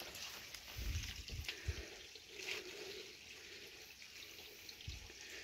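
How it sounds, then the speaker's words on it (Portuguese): A small natural water spring trickles and gurgles softly outdoors, a faint continuous burble with a few louder splashes near the start. "É um olho d'água pequeno."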